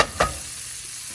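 Chicken stock hits a hot frying pan where ham has crisped, giving a sharp burst of sizzle that settles into a steady hiss for about a second.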